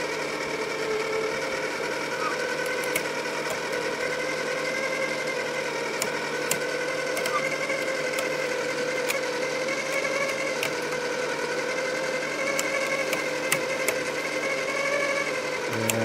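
A Harbor Freight Chicago Electric Flux 90 welder feeds wire at full speed, a steady motor drone with a whirring mechanical hum and occasional light ticks, constant and close.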